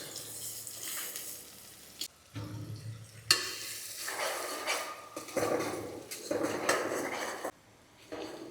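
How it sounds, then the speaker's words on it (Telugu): Sliced onions for a Telangana-style nalli mutton curry stir-fry in a pan, a spatula scraping and stirring in repeated bursts over a steady close sizzle, with short pauses between strokes. "ఇక కలిపేద్దాం. ఉల్లిపాయ అనేది కాస్త మగ్గేంత వరకు కలపాలి."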